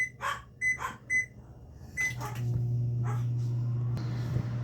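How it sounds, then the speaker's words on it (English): A microwave oven hums steadily while cooking potatoes for a Sunday brunch, the low drone starting partway through and running on after a few short chirps and clatters of kitchen activity. "Get our potatoes in the microwave for 8 to 10 minutes."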